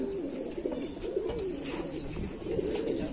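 Rampuri pigeons coo nearby in low, throaty, repeated rolling calls that overlap one another. A faint higher chirp sits in the background, and no one speaks.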